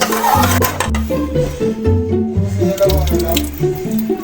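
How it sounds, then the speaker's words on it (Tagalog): Tap water runs steadily into a container at a household sink, a continuous close gurgling stream with shifting pitch as the vessel fills. "nilalagyan ko ito ng tubig"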